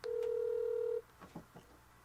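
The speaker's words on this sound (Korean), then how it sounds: "전화 연결 한번 해보도록 하겠습니다." A telephone ringback tone sounds once, a steady held tone lasting about a second while a call is placed during a Korean broadcast talk show, followed by faint background murmur.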